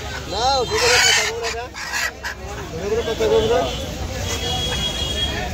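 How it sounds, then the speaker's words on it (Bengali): A desi chicken at a village haat market gives several clucking, crowing calls close by, amid busy crowd chatter and people talking. "ওই মুরগি অসুস্থ নাকি?"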